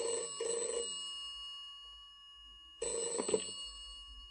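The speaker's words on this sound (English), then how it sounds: "A phone call." A telephone rings in two bursts of bright, trilling bells, with a quiet pause between them, clear and close in a quiet room.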